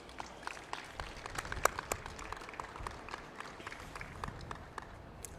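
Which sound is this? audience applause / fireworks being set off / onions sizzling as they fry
audience applause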